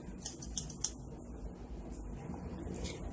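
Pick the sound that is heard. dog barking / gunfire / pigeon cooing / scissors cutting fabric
scissors cutting fabric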